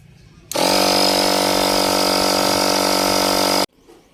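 An air pump inflating a car tyre on a Toyota Vios starts abruptly and runs as a loud, steady mechanical buzz for about three seconds, then cuts off sharply. It is close and heard alone.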